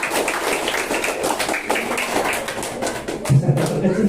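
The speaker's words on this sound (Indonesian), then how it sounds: "Iya, bagus, tepuk tangan." Children and adults at a Christmas holiday Bible school break into a brief burst of clapping, scattered hand taps and thuds mixed with murmured voices and a short vocal sound near the end.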